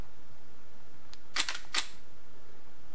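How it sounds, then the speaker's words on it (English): Nikon D3x shooting in live view: a faint click, then two sharp, close mechanical clacks of the shutter closing and the mirror slapping down and back up, in a quiet room with no talk. "the camera in live view mode closed the shutter, slammed the mirror down, slammed the mirror up, opened the shutter and took the picture"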